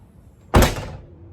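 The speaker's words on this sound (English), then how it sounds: "And then when I close the door," A manual liftgate on a 2020 Toyota RAV4 Hybrid XLE swings shut with a single solid thunk, close and fairly loud, the low boom fading quickly into quiet.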